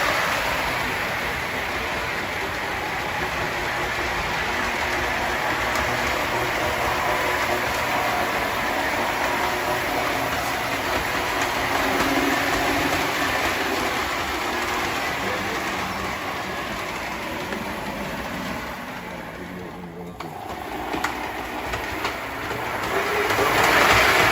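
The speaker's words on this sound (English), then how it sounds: "here comes the beer train over by the S3 New York Central" A model train rumbles steadily along its layout track with a continuous clattering roll, passing near a New York Central S3 model, holding near and even before briefly dipping and returning.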